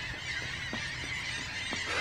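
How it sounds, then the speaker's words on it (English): Geese honking overhead outdoors: a few faint, distant honks come through over steady wind-like background noise. "Pretty birds. A lot of birds up there."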